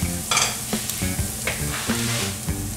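Butter going into a pan of sautéing halibut with salt and cracked black pepper, a steady close sizzle broken by repeated stirring scrapes, with no one talking.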